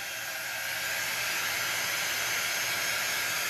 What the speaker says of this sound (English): we're just throwing a dryer on this really super duper quick